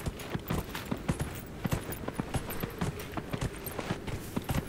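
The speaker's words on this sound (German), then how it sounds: "Los, Pferdchen! Schnell," Rapid hoofbeats of a horse galloping in Dragon Age: Inquisition, a steady rhythmic clip-clop of quick, fairly loud thuds running continuously over the ground with no talking.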